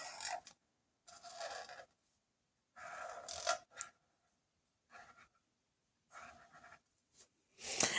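Acrylic markers write on paper in short bursts of scratchy strokes with pauses between them. The squeaky rubbing is close and quiet, with no talk.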